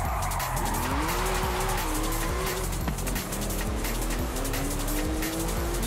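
Race car tires squealing and skidding in a driving video game, a continuous loud screech with a rising and falling pitch over a steady engine roar, the car sliding hard around the track for the whole stretch.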